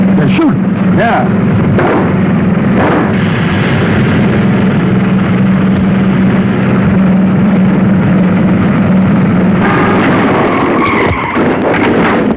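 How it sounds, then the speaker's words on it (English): Gunfire and speeding car noise from a 1940 crime comedy film scene, loud and dense with a steady engine drone, sharp bursts near the start and end, and brief voices mixed in. "They're shooting."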